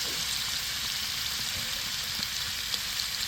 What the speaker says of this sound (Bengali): ডিমগুলো ভেজে নিব।